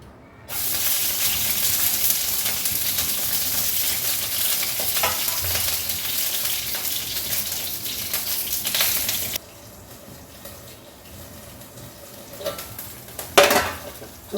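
Green chillies frying in oil in a pan give a loud, dense sizzle for several seconds, then quieter crackling with a few utensil clinks and scrapes.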